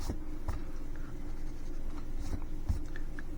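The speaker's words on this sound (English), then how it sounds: "let me just erase some of my pencil lines here" An eraser rubs out pencil lines on paper while a country flag is drawn, producing soft, close scratchy strokes with a few sharper taps, no talking.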